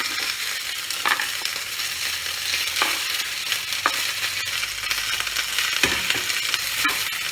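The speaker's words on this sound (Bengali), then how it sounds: "আমার বড়ি ভাজাও হয়ে গেছে।" Bori, small lentil dumplings, frying in a pan of oil, giving a steady broadband sizzle with occasional stirring scrapes and clinks, close and continuous without talk.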